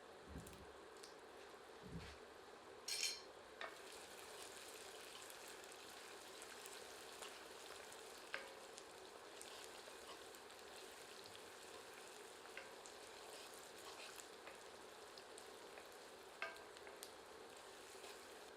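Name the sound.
onion frying in a pan with whole red chillies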